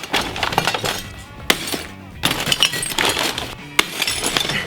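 A covered glass bottle is smashed for DIY glass art, giving sharp crashes with shattering and clinking shards in several bursts, separated by brief quiet gaps.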